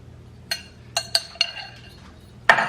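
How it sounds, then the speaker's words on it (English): Vegan ground beef is scraped into a metal pot, giving a series of sharp clinks and clatters of utensil on cookware, several spaced knocks and a louder one near the end. "So I'm just gonna throw that in the pot."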